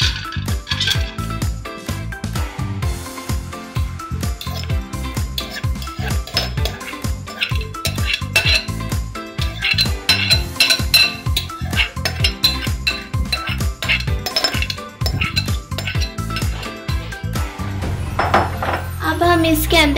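Chana dal poured into a metal pressure cooker while making chicken shami kabab gives a steady, close rattling clatter with sharp metallic clinks throughout, loud and continuous.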